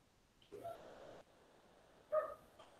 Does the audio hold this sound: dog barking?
yes